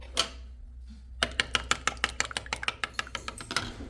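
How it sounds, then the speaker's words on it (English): A whisk clicks rapidly against a bowl while buttermilk, egg, vanilla essence and melted butter are mixed for applesauce buns, a steady run of crisp taps following a couple of quieter knocks. "we're just gonna mix this until completely combined"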